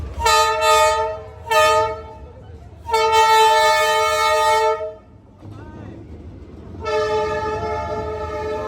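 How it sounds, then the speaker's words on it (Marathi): A train horn blasts in several long, loud bursts as a fast train rushes past close by on Vietnam's Train Street, its rumble continuing between the blasts. "आली ट्रेन आली. अरे फास्ट आहे."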